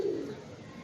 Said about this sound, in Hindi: ये बाज़ार से मेरा भाई ख़रीदा हुआ कबूतर है।